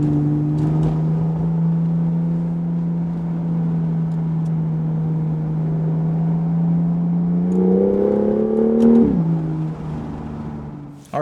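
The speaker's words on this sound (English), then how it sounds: "Just listen to that exhaust." A BMW M2 fitted with an M Performance exhaust system idles with a deep, steady drone, then revs up in a rising sweep before snapping back down, close and loud with no talking.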